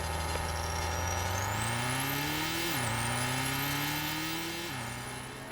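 Race car engines in the iRacing video game, with the leader's engine droning loud and close; a steady high-pitched roar climbs in pitch, drops sharply at each gear shift, then climbs again.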